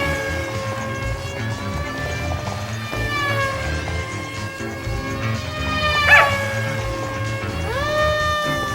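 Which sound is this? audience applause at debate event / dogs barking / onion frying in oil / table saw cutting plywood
dogs barking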